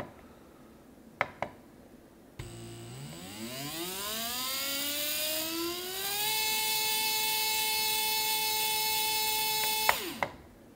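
An RC electric brushless motor spins up on a SkyRC GForce motor analyzer during a KV and RPM test, its whine rising steadily in pitch, holding a loud steady tone, then cutting off abruptly, with a few clicks before and after.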